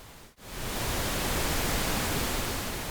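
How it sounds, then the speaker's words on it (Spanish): Synthesized sea wave made from pink noise shaped by a slow envelope in Soundcool, a broad hiss that cuts out briefly then swells in and holds as a steady roaring wash. "y con esto podemos simular un poquito el sonido de ola de mar"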